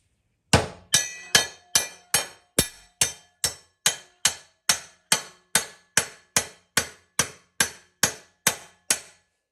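About twenty evenly spaced sharp metallic taps of a hammer on a mower deck, struck steadily roughly twice a second, each ringing briefly with a bright clink.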